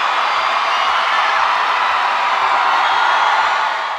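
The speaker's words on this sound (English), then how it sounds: "Listen to how that crowd roars." A dense, continuous crowd roar swells steadily and loudly, with a faint rhythmic low thumping beneath it.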